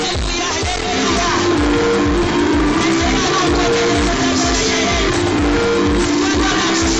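A church congregation at a Christian gathering cheers and shouts to welcome a speaker, a loud, sustained crowd roar with whoops over steady rhythmic music throughout.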